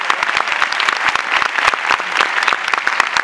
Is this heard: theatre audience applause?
yes